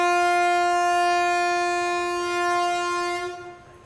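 The Ernakulam Okha Express sounds a long, loud, steady train horn close by, held for about three seconds before cutting off and fading.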